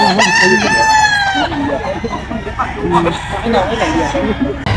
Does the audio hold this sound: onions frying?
no